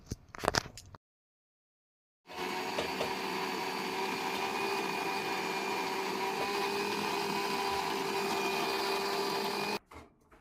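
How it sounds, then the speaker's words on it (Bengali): Kitchen mixer grinder jar blending ginger and garlic into a paste: a few brief clatters, a pause, then a steady, high-pitched motor whir running unbroken for about seven seconds before it cuts off. "তারপরে মিক্সি জারের মধ্যে আদা রসুনকে আমি পেস্ট করে নেব"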